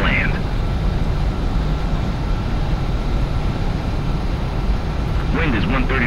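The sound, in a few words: jet aircraft taking off, from video game Ace Combat 7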